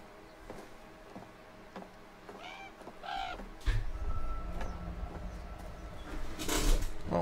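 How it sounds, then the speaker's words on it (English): A blackbird in The Quarry video game gives a few harsh caws amid ambient game sound, followed by louder rumbling and movement noises. "It's just a bird. It's just a black bird."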